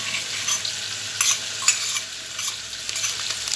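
Turmeric, mint and ginger sizzle steadily in a hot pan as they are slowly stirred, with a continuous close frying hiss broken by light scraping strokes and occasional clicks, no talking.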